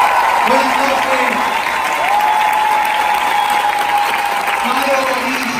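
Loud, sustained audience applause fills a crowd gathering at a women's, trans and travesti assembly, steady and dense throughout with a voice speaking over it.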